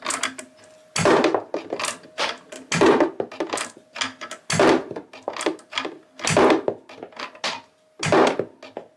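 An industrial servo motor catapult shooting marbles, a loud mechanical clack-and-thunk cycle repeating roughly every two seconds, about five times, close by with a faint steady hum between launches.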